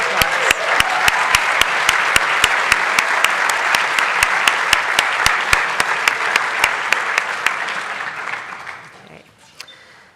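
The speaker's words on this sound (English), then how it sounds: "Let's give a round of applause." Sustained audience applause from a room of people recognizing musicians, broad steady clapping with some sharper individual claps, fading out over the last couple of seconds.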